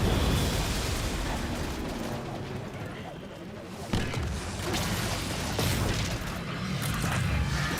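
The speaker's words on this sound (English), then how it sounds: "I heard those explosions from here." Loud, dense rumbling explosions and gunfire in the video game Destiny 2, with a sharp boom near the middle over continuous battle noise.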